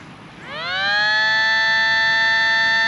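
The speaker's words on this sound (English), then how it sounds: "let me go ahead and set this off and see what it sounds like" A small 3D-printed model of a Los Angeles 500-SHTT siren spins up from a faint hiss into a rising multi-tone wail, then holds a steady, piercing chord, close and fairly loud with no talking.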